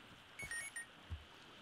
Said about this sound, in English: Got an alarm set on my iPod to go to a pizza place for a yearbook.